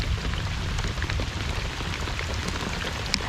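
Steady rain falls on a lake as a thunderstorm approaches, a dense, even hiss with scattered drop patter, fairly loud and continuous throughout, with no voices.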